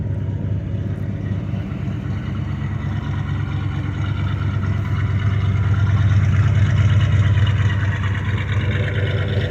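A 1978 Chevy C10 pickup with new exhaust runs steadily after a cold start, a loud, continuous low engine rumble that swells slightly louder in the last few seconds, with no voices over it.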